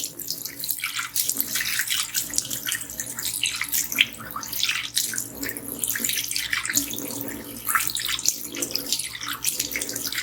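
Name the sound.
water from basin tap rinsing mixer grinder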